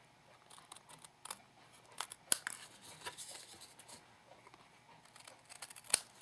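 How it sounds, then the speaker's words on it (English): Scissors snip off small leftover ends of paper for a Christmas craft, a series of quiet, irregular close cuts with a few sharper snaps and faint rustling between them. "I'll actually know better once I cut off these little extra ends here."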